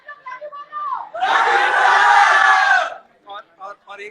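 A crowd at a live Bhojpuri music show roars and cheers loudly for about two seconds, a sustained massed shout set between short bursts of someone speaking before and after.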